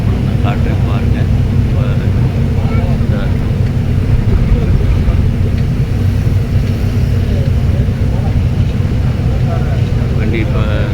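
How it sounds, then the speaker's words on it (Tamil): A vehicle climbing slowly up a hill road, its engine a steady, continuous low rumble throughout, with talk faintly mixed in. "வண்டி இப்போ ஸ்லோவாக போகுது. ஹில்ஸில் ஏறுறதுனால ஸ்லோவாக தான் போகும்."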